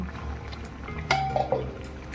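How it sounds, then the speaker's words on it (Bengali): Pieces of bhola fish go into a pan of boiling mustard curry broth, giving a few soft splashing plops and light clinks over a low, steady bubbling. "এখন ঝোলটা ফুটে উঠেছে এখন দিয়ে দেবো মাছগুলো"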